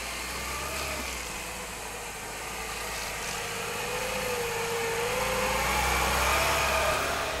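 A car drives back along a forest road, its engine a steady mid-pitched drone with road rumble that slowly swells louder, heard from inside the cabin with no talking.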